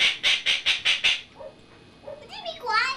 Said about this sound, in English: You are the noisiest bird, QB, I've ever seen.